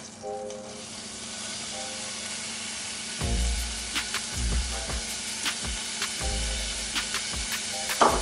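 Smoked bacon lardons sizzle steadily in melted butter in a hot pan, with occasional stirring scrapes and a loud hiss as they go in.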